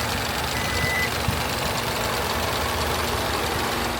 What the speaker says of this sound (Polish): Oczywiście mamy tu i 4 gary, żadnej patologii 3 cylindrów i dźwięku jak w kosiarce. Przyjemnie mruczyk.